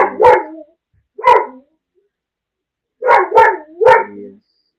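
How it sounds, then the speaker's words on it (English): A dog barks in two short bursts followed by three more in quick succession, loud and close with gaps of silence between, indoors during a gaming session. "The dog is being obnoxious."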